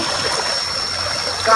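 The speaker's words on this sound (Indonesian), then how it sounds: "Ini ada air terjun." A waterfall sends out a loud, continuous rush of flowing water, a steady close broadband roar with a brief splash near the end.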